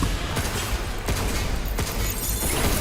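Rapid gunfire from a shock wave gun in the sci-fi video game Pragmata, a dense, loud barrage of repeated bursts with sharp cracks standing out near 0.4, 1.1 and 1.8 seconds.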